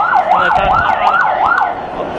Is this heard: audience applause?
no